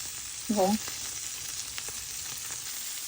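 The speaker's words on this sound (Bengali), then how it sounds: "আমার পুঁটি মাছগুলো ভাজা হয়ে গেছে" Oil sizzles steadily around small puti fish frying, a constant crackling hiss, with a brief tonal squeak near the start.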